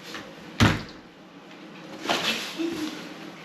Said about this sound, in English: get the door shut